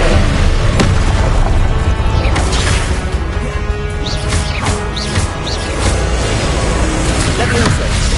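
Confringo spell blasts in Hogwarts Legacy boom repeatedly through a loud, dense wash of combat noise, several crackling explosive bursts with a voice speaking over them.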